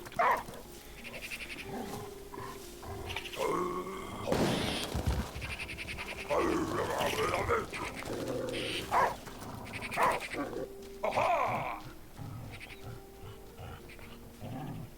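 A dog in the video game The Last Day of June, with its calls and movement mixed into the game's ambient sounds and music, moderately loud throughout.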